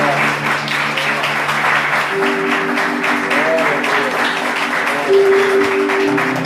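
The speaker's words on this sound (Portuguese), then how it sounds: "Aplaude o Senhor." Church congregation at a Portuguese-language service breaking into sustained applause, a dense continuous wash of many hands clapping, loud and even throughout with faint voices and tones mixed in.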